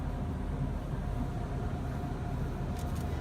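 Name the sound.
automatic car wash running at Costco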